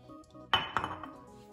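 Dishes clink against each other as flour is added to a large bowl while making Eritrean vegan kicha fit fit, with one sharp knock followed by a few lighter clatters close by.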